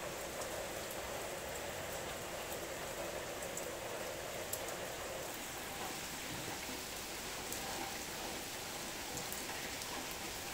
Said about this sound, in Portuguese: A noite chovendo e agora continua chovendo, beleza?